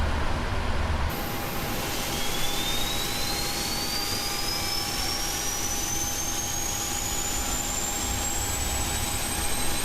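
Engine number 2 of a Singapore Airlines Boeing 777-300ER spools up in the Prepar3D flight simulator: a loud, steady jet roar with a whine that climbs slowly in pitch throughout, heard alone.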